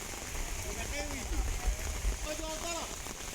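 Heavy monsoon rain falls in Lachharas village, Nandod, Narmada, as a continuous moderate hiss beneath people talking nearby.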